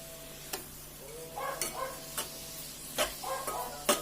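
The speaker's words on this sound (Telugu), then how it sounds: "వేసేసుకున్న తర్వాత ఆ మిశ్రమాన్ని బాగా కలుపుకోవాలి." Grated bottle gourd mixture being stirred in ghee for a sweet kheer brings a quiet background sizzle punctuated by several sharp spoon taps and scrapes against the pan, spaced roughly every half second to second.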